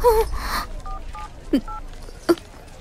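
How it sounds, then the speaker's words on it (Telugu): Phone keypad dialing in a film scene, a few short, faint electronic tones spaced apart after a brief rustle, quiet and close with no talk. "ముందు శ్రీకాంత్ ఫోన్ చేయి."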